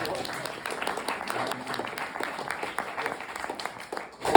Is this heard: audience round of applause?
yes